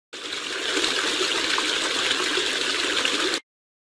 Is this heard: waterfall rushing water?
yes